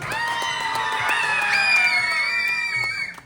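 A game-show audience on the Disney Treasure cruise ship screams together in a loud, sustained shriek that holds steady for about three seconds before trailing off.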